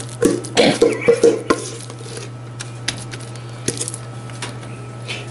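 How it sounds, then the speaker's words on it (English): Cake batter gets dumped from a bowl into a baking pan: a few soft thuds and scrapes crowd the first couple of seconds, then only faint room tone and an occasional light tap. "Just dump that into the pan"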